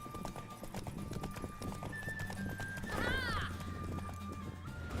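Horse in the video game The Witcher 3: hooves clip-clopping steadily close by while a loud whinny rises midway, with game music and faint voices underneath.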